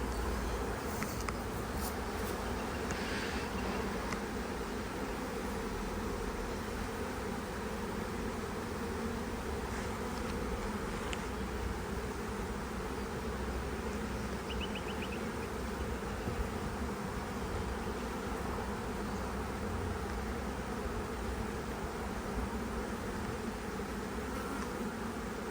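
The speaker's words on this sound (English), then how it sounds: "Come on, bees." Dense buzzing of many bees hums continuously, close and steady, with occasional louder passes near the listener.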